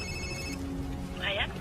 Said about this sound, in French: C'est un bruit de téléphone?